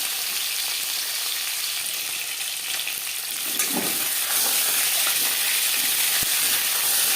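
Snakehead fish sizzling in a pan of shallow oil, cooked lightly for a bottle gourd curry; a steady, close crackle and hiss of frying runs throughout with no talking.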